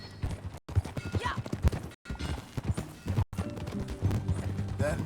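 Horse hooves clip-clop at a steady walking rhythm in the Red Dead Redemption 2 video game, fairly close, with soft muffled ambience and brief cuts to silence.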